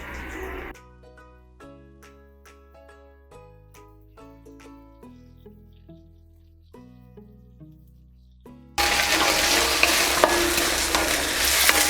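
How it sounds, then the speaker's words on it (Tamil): Green turkey berries (sundakkai) with onion in a frying pan: a loud, steady sizzle with stirring bursts in the final few seconds, after a stretch of background music. "சுண்டைக்காய் சேர்த்தாச்சு, நல்லா கிளறி விடுங்க"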